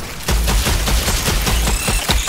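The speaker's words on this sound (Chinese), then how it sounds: "我们来试试看那个爆炸步枪" An explosive rifle in the video game Strange Brigade, fired in a rapid string of loud, punchy blasts with deep booming low end, one shot after another with no speech.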